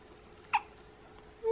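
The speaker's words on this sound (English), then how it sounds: "You getting the hiccups?" A newborn baby gives two small hiccups, a brief soft one early and a second louder one at the end, in a quiet room with no talking.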